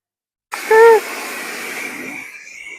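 A high-pressure washer sprays a Subaru at close range, a sudden loud hissing blast that starts abruptly and then holds as a steady rushing spray before slowly tapering off.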